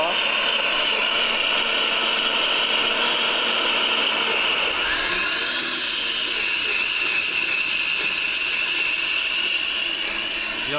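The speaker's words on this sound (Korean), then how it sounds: "이거 물펌프가 따로 필요 없겠는데요. 와, 안에 물이 순식간에 줄어들고 있습니다." A small handheld blower is being used as a water pump, sucking water up with a steady, loud, high-pitched whine and hiss that shifts slightly in tone midway through.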